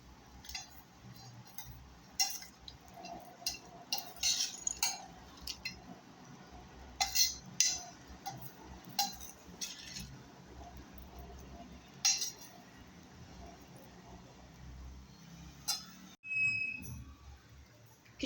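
A spoon clinks against a bowl while soaked sabudana is mixed with salt, light irregular taps and scrapes, close and quiet, with a short knock near the end.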